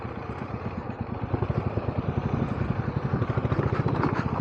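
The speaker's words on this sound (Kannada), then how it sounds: "ಸ್ಲಿಪ್ ಆಯಿತು ಹಿಂದ್ಗಡೆ ಟೈರ್" A motorcycle climbs an off-road trail with its rear tyre slipping, its engine chugging in a steady, fast, pulsing rhythm that grows slightly louder and stays close throughout.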